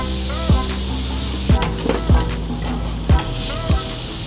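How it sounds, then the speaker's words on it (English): Picanha sizzles loudly on a hot PK Grill with a steady frying hiss, punctuated by several sharp knocks and scrapes as it is turned. "we'll continue rotating and flipping this picanha until we get that sear that we're looking for"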